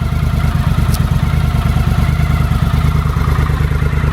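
A 1982 Honda CX 500 Turbo motorcycle engine runs steadily at idle, a close, loud, even rumble with a fast regular pulse and no voices.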